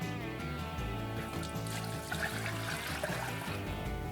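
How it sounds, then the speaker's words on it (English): Four cups of chicken broth being poured into an Instant Pot Duo Plus, a soft continuous liquid trickle and splash, faint and steady, under background music with no talking. "We've got 4 cups of chicken broth that we're gonna dump in."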